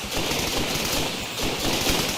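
Rapid, sustained gunfire from the Serious Sam video game, a dense unbroken stream of shots filling the whole stretch at steady loudness with no pauses, heard alone without talk.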